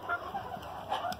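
Small bantam hens cluck softly and steadily at close range after being fed, a few brief calls overlapping through a short stretch with no talking.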